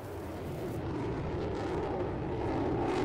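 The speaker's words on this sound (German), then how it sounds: "Hier kommt ein Flugzeug übrigens gerade reingeschossen hier." An airplane sweeps in within the Farming Simulator 19 game on the Saxonia map, a steady, moderately loud engine roar holding across the whole moment, with no talk.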